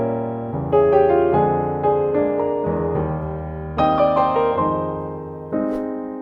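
Slow stride-style piano with a loose, stretched rhythm: bass notes and chords in the left hand alternate under a melody, each phrase landing with a soft accent and then ringing out, played alone and fairly close.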